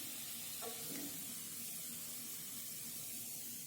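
Farsi puri fries in hot oil with a soft, continuous sizzling hiss, faint and even across the whole stretch, with a couple of light utensil taps early on.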